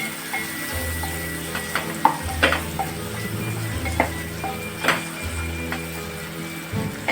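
Spices being stirred into a frying curry of bird's-eye beans, with a steady soft sizzle under repeated scraping and clinking strokes of a spoon against the pan.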